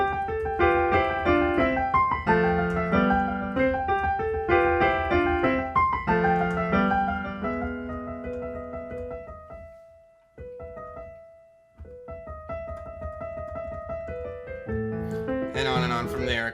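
Solo piano plays a passage from Beethoven's Für Elise, with flowing repeated melodic figures, a brief pause near the middle, then sustained chords resuming; clear, close and without talk.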